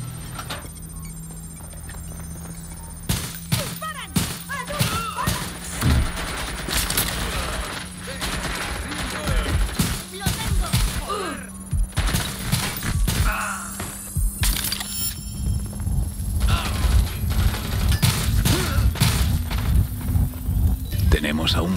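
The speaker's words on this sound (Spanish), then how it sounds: "¡Disparan! ¡Disparan!" Gunfire bursts in the Watch Dogs Legion Bloodline video game crack repeatedly as rapid volleys, with loud sharp shots scattered over a steady hum while voices talk throughout.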